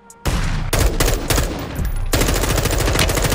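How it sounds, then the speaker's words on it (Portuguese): Rapid automatic gunfire in Call of Duty Warzone 2.0 rattles in loud, dense bursts after a brief quiet start, with short gaps between volleys and no voices over it. "Eita, ouvi tiro aí, hein?"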